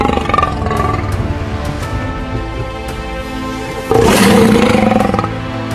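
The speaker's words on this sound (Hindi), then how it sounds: "ये दहाड़ सिर्फ आवाज नहीं," A lion on the golden grasslands of Africa lets out a deep, rumbling roar, loud and close, swelling into a powerful grunting burst before easing off.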